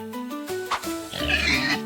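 Pig oinks in a cheerful children's zodiac song, a couple of short grunting calls set over bright music with no talking.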